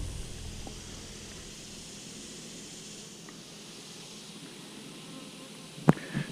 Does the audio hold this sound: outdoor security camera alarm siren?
no